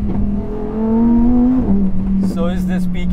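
The V10 engine of a Lamborghini Huracan Tecnica supercar revs loudly and close, climbing in pitch, then dropping back to a steady drone. A voice talks over the engine toward the end.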